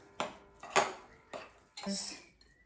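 Ejjeh egg batter is mixed in a bowl with a utensil, giving four separate scraping, clinking strokes with short pauses between them, close and fairly quiet.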